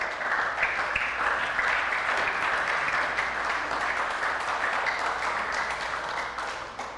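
Congregation in a church applauds steadily, dense continuous clapping from many hands that holds for several seconds and then tapers off.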